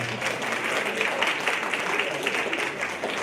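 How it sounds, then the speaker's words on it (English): An audience gives sustained, dense applause after a student's soapbox speech at a Social Justice Day event, steady and loud throughout with no individual claps standing out. "Let's give her another warm round of applause"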